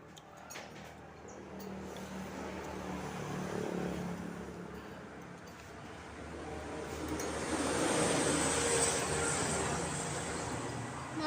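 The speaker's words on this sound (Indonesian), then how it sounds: "Mohon maaf ya teman-teman kalau berisik, suara mobil, suara Honda." Cars and Honda motorbikes pass along a roadside next to a meatball-soup stall: a faint, continuous traffic hum that swells twice as vehicles go by, then eases back.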